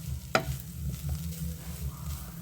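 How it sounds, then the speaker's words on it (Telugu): Grated coconut fries in a pan with a low, steady sizzle and a single sharp stirring scrape near the start. "ఇది కూడా బాగా ఫ్రై అవనిద్దాం."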